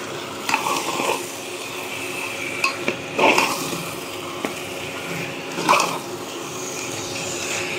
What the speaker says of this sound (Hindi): सारे मसालों के साथ मटन को मिक्स कर लेना है।